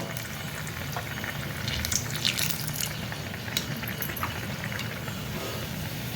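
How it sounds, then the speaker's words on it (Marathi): Ulta vada pav sizzles steadily in hot oil as it fries, a continuous dense crackle with a few brighter pops, close and without talk. "असं 2 वेळा इकडून तिकडून छान मस्त तळून घ्यायचा।"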